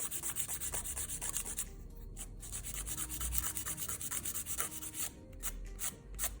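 A coarse-grit nail file rasps across gel nails in quick repeated strokes, a close, scratchy rubbing with brief pauses between bursts.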